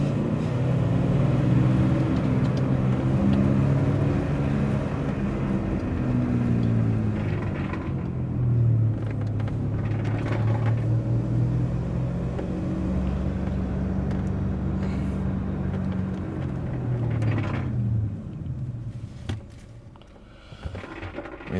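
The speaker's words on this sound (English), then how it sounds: "Well, let's give it a first gear pull here." A 2013 Nissan X-Trail 2.0 diesel, with sluggish, poor performance, pulls hard in first gear, its engine drone rising steadily in pitch through several climbs before easing off, loud and continuous from inside the car with no talking.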